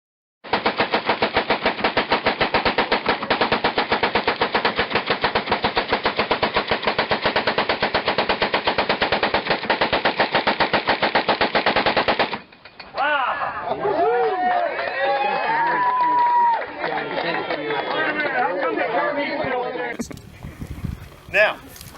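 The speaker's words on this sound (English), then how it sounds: "But the Gatling gun made 110 hits." A Gatling gun fires one continuous rapid burst for about twelve seconds, loud and dense. It then stops, and voices and crowd chatter follow.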